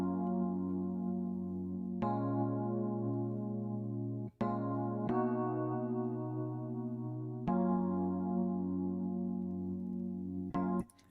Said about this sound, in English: So if we play just the chord progression with itself, it sounds like this.